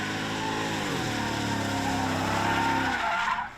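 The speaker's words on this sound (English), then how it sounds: "It could burn the tires. I slid it all around a bunch" Mercedes built to about 600 horsepower sliding around at Englishtown Raceway Park, tires squealing and skidding loudly and continuously over a roaring engine before the screech drops off near the end.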